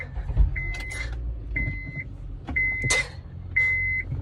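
A car's engine idles low and steady just after being started, while an electronic warning chime beeps four times at a regular pace over the rumble.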